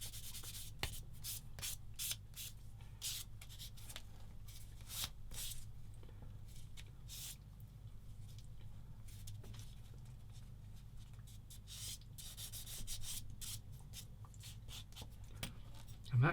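Steady scratchy rubbing of a sanding stick on plastic parts of a 1/35 scale model submarine kit, with repeated short strokes over a low background hum, close and fairly quiet.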